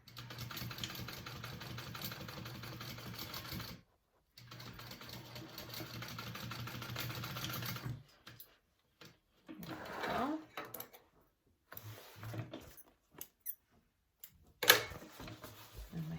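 A sewing machine runs steadily while stitching a crossbody bag, in several bursts separated by short pauses, then switches to sparse handling noises and clicks.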